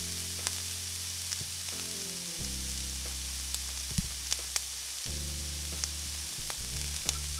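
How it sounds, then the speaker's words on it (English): Green beans, garlic and lemon juice cooking in butter in a pan, with a soft continuous sizzle under a low steady hum, and a few sharp utensil taps and scrapes scattered through, close and fairly quiet, no voices. "We're gonna cook and stir these green beans and garlic until the garlic softens."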